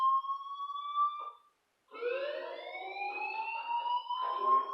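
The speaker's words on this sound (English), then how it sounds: "do you hear that fire alarm?" A synthetic electronic fire alarm tone in the video game Life is Strange, a steady high pitch that cuts off briefly, then returns with a rising, wavering pitch, loud and alone.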